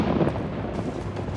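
Thunder rolls in the horror game Outlast, a low, rumbling wash with a slightly brighter crack early on, moderately loud and with no voices.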